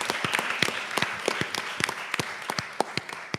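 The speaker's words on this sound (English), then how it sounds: "Can we please give Zilan and Megan a warm round of applause?" A small audience claps for two conference speakers, a brief burst of sparse, uneven hand claps, close by and quite loud, fading out after a few seconds.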